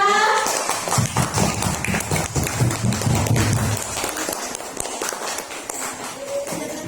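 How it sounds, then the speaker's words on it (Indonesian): Classroom clapping for a student group, a burst of scattered hand claps that starts loud and thins out toward the end, with children's voices chattering over it. "tepuk tangan untuk kelompok 3"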